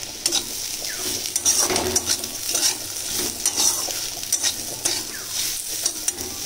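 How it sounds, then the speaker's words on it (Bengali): Fried prawns being stirred in a frying pan with a utensil, a steady sizzle under repeated scraping and clinking strokes against the pan, close and moderately loud. "ওই যে আমার ভাজা চিংড়িগুলো ছিল, এই যে এইগুলোকে এখন দিয়ে দেবো এর মধ্যে, একসাথে ভালো করে নাড়াচাড়া করে নেবো।"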